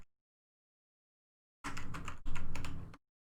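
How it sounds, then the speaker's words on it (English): Rapid clattering of many keys pressed at once on a PC computer keyboard, two dense bursts of close, loud clicking separated by a brief pause after a silent start. "Literally pressing every button on my keyboard."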